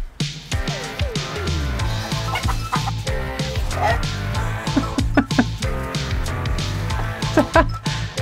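A small chicken clucks and calls repeatedly at close range on a farm, mixed with a dog's barks and yips throughout, loud and busy.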